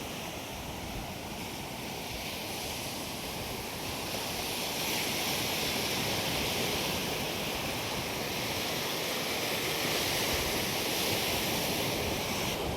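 Sea surf washing onto the shore at Velas on the Konkan coast, a steady broad roar with wind buffeting the microphone, growing slightly louder toward the end, with no voices.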